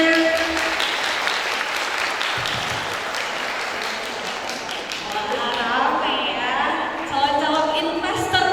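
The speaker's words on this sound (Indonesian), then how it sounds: "boleh tepuk tangannya semuanya" Audience applause fills a university public lecture hall, steady dense clapping throughout with a slight swell near the end, mixed with some voices and cheering.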